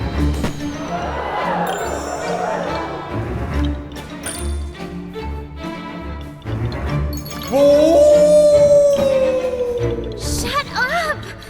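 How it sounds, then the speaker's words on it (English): Howl-like cries in the video game Puppeteer, in the Tiamat stage: a long, sustained, slightly falling wail rises out of a busy, rumbling game soundtrack and lingers for a couple of seconds near the end. "The howls grew closer and closer."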